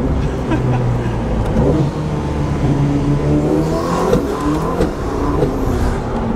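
A Ferrari accelerates hard with rising engine tones and sudden drops as it shifts gears, a loud, close, continuous roar.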